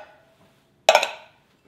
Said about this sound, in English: I'm just gonna dump everything into my slow cooker